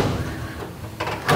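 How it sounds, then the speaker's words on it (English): Drawers are pulled out of a shop cabinet in a warehouse, giving soft sliding rumbles followed by a couple of sharper wooden knocks and clatters near the end, close by. "Taking out a couple of drawers so we can get these pieces together."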